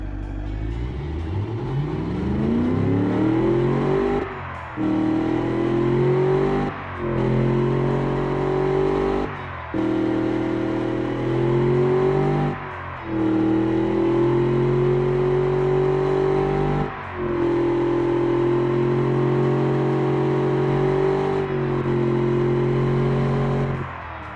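A car with a 4.6L engine and tuned intake and exhaust revs repeatedly, each throttle blip climbing in pitch then dropping back to a deep steady rumble, loud and close with a regular rhythm.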